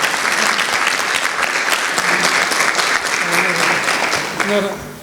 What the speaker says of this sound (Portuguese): Por favor, uma salva de palmas bem efusiva.